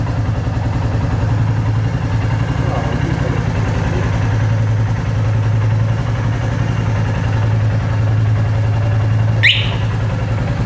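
A Royal Enfield Classic 350 motorcycle idles steadily with a low, even thumping pulse, loud and close throughout, ending in a brief sharp chirp near the end.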